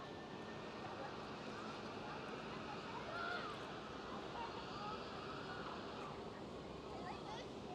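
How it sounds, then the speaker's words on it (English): An Embraer E195-E2 taxis at Schiphol airport, Amsterdam, its steady broadband jet engine rumble continuous and moderately distant, mixed with general airfield noise and some wind. "we do have the E195E2 taxiing behind the Air Arabia Maroc that's pushing back"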